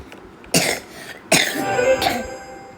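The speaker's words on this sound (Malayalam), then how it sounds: "എനിക്ക് ചെറുതായിട്ട് ചുമയൊക്കെ പിടിച്ചു" Three sharp, close coughs spaced about a second apart, with some low background noise between them.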